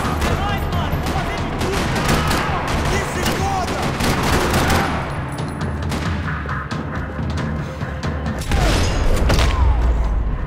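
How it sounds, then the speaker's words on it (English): Gunfire in a parking lot in the video game Max Payne 3 rattles in dense, continuous bursts of shots and booms, loud and layered, with a heavier thump near the end. "Another parking lot rattling with gunfire."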